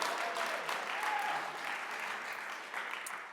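An audience at a scholarship and racial justice event bursts into applause, a dense, steady patter of many hands clapping for a few seconds without any talking.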